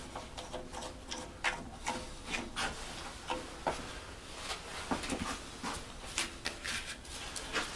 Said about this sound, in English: I suppose I could just clamp this down and do the sandpapering right here too.